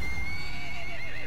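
A fire horse in the Metal Gear Solid V video game gives one loud, close, quavering whinny that fills the whole short moment over a steady background rumble.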